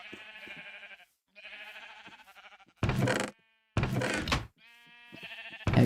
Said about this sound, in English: Let's shear the sheep.